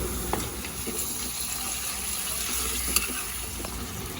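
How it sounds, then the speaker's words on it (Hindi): Steady sizzling and crackling of chicken frying in a pan, with occasional soft clinks of stirring, no talking. "अब हम अपना चिकन डाल देंगे, इसमें ऐड कर देंगे।"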